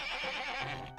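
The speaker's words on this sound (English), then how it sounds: "The sound of horses." A horse neighs in a high, shaky whinny that sweeps downward, heard alone and fairly quiet for about a second.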